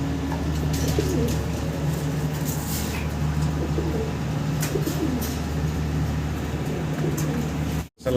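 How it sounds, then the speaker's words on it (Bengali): Low, soft cooing from a pair of large Roman pigeons repeats over a steady hum of background noise, close by, with no one talking. "বিশাল বিগ সাইজের একজোড়া রোমান গাল কবুতর দেখাচ্ছি ভাই আপনাদেরকে"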